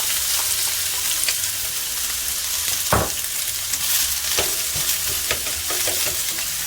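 Onions and peppers sizzling in a hot pan for meatless jerk tacos, a steady bright crackle with sporadic spoon scrapes and stirring clatters throughout, close and without talk.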